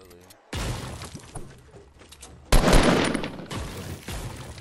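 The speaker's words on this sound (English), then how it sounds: "I hear shots." Bursts of gunfire in a video game, with a sharp loud volley near the middle and several more shots before and after, set against ongoing game noise.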